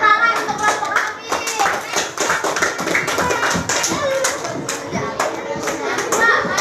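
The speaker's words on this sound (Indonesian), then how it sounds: "Tepuk tangan untuk kelompok kami." A primary-school class in Indonesia claps for a group of schoolchildren, dense, lively hand applause running steadily for several seconds, with children's voices mixed in underneath.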